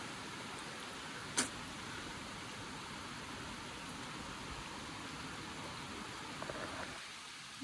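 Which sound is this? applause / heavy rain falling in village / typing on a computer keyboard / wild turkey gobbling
heavy rain falling in village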